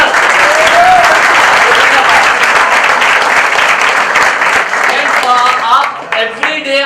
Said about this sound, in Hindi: ताली होनी चाहिए फ्रेंड्स, एकदम जबरदस्त।